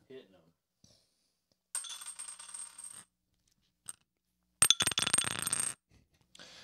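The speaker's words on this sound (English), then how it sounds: "he's going to roll some dice" Dice rolled across a hard surface in two bursts of bright, rattling clatter, the second one louder, with short pauses of quiet between them and no talking over the sound.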